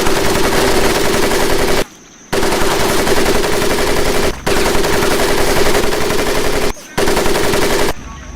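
Sustained automatic machine-gun fire from the video game Medal of Honor: Pacific Assault, loud and continuous in long bursts broken by three short pauses.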